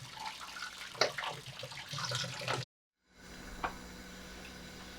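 Cold water pours over cooked rice for biryani in a steady, tap-like gush with splashy bursts, then cuts out briefly before a quieter flow resumes.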